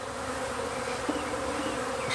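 Honeybees buzz steadily as a colony is moved into an observation hive box, a dense close drone with no talk.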